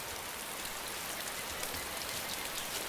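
Steady rain falls in the DayZ game world, a dense even hiss of drops on surfaces with no pauses and no voices.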